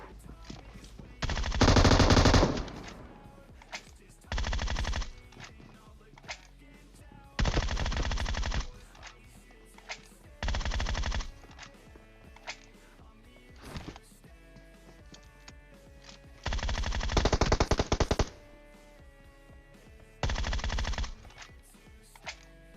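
Repeated bursts of loud automatic gunfire in the video game PUBG Mobile, several long volleys separated by short pauses, over a low steady background.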